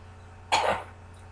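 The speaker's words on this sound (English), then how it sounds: "I want you to cough for me." A single short cough, close and fairly loud, standing alone against a quiet background hum.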